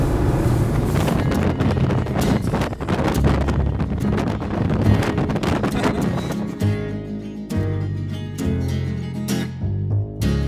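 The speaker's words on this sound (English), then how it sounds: "it's super windy" Strong wind at the Quiraing on the Isle of Skye in winter buffets the microphone with continuous loud roaring gusts that ease slightly toward the end.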